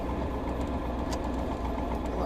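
An LS7 V8 in an S10 truck settles straight back to idle after the throttle is released, a steady low rumble with a faint rhythmic lope and no surging.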